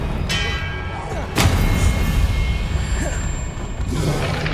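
Confringo blasting spells exploding in Hogwarts Legacy, with a loud, sharp blast near the middle standing out over a steady bed of in-game combat noise and rumble.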